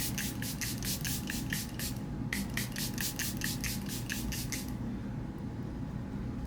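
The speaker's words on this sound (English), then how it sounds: "I'm going to be using the Charlotte Tilbury Airbrush Flawless Setting Spray." Charlotte Tilbury Airbrush Flawless Setting Spray misted onto a face in rapid, close bursts, a quick series of short hissing pumps, a brief pause, then another run of spritzes before stopping, over a steady low background hum.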